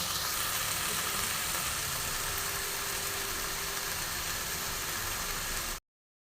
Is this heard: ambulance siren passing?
no